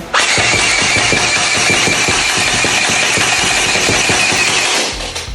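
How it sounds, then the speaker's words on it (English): A modified toy machine-gun blaster fires in one continuous loud burst of rapid, evenly spaced mechanical clacks over a whirring motor, running about five seconds before winding down. "Okay, so we got the blaster all assembled. We'll do the firing demo now."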